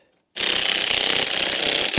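Rapid rattling hammer of an impact wrench driving a wheel socket onto a Series 2A Land Rover wheel, starting abruptly and buzzing loudly and steadily for under two seconds.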